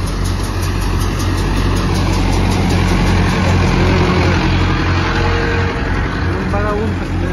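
A tractor engine idles with a fully loaded trailer hitched in a farm field during a harvest, a steady low diesel rumble holding close and loud throughout while someone talks over it.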